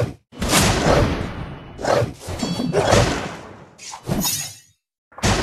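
Explosions and blasts from a fantasy battle video game, several separate bursts with crashes and breaking debris sounds, loud and close, separated by brief gaps.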